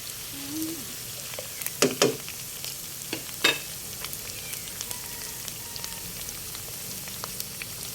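Snakehead fish fries in a pan with a soft, steady sizzle, broken by a few sharp scraping clacks as it is stirred.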